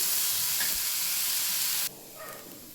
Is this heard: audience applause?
no